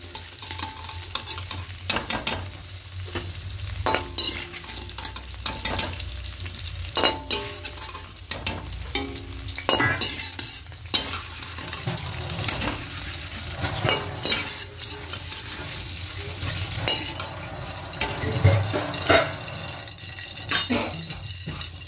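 Dried red chillies fry in hot oil in a pan, a continuous soft sizzle broken by frequent sharp clacks and scrapes of a spoon stirring against the metal.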